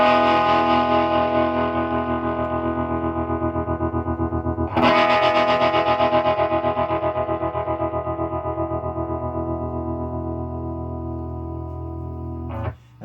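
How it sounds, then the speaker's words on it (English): Gibson GA-15 RVT Explorer guitar amplifier playing with its tremolo effect on, a sustained guitar tone pulsing in a steady, rapid volume throb, with a fresh strum about midway that keeps pulsing and fades near the end. "Oh, tremolo."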